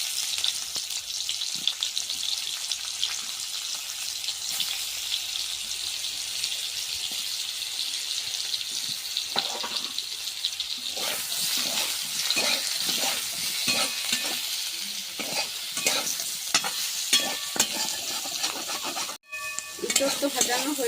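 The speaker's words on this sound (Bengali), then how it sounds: "ইঁচড়গুলো অল্প ভেজে নেব।" Raw jackfruit pieces fry in oil for a Bengali jackfruit and prawn dish, a steady close sizzle with repeated scraping and clattering as the pieces are stirred, briefly dipping near the end before resuming.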